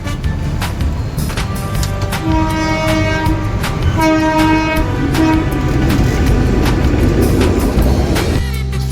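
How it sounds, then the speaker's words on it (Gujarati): A train rumbles past close by a railway crossing with rhythmic clanking wheels, while a horn sounds in two long blasts over the steady roar. "આ જતો ખરી ટ્રેન આવે છે"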